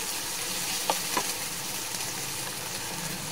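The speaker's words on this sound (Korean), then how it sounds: "노릇노릇하게 볶아졌습니다." Meat stir-frying in a pan over a gas flame for jjajang rice, a steady soft sizzle with a couple of brief scrape or stir clicks, close and fairly quiet, no talking.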